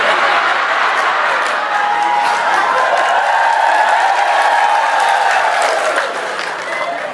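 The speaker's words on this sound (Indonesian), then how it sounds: "Tukang sound system tepuk tangan" A crowd at a large outdoor religious gathering applauds steadily, clapping spread evenly and fading slightly near the end, with faint laughter and voices mixed in.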